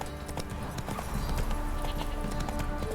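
Roach the horse galloping in Witcher 3 gameplay, a fast, steady run of hoofbeats close up, over background game ambience.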